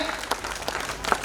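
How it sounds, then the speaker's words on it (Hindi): Audience applause for director Kundan Kumar as he comes onto the stage after a play, a short dense burst of clapping at steady loudness with a few sharper claps standing out. "कुंदन कुमार के लिए जोरदार तालियां"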